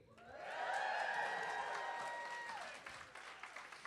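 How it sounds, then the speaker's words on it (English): An audience at the 2024 USA Jigsaw Nationals cheers and whoops loudly in a rising burst of shouts and applause, then fades to scattered claps. "That was the best cheer all day"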